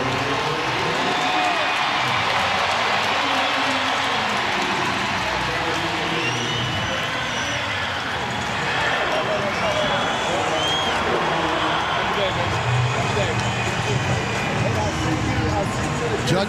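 A stadium crowd at the Oklahoma at TCU college football game roars in a dense, continuous wash, with a commentator talking over it.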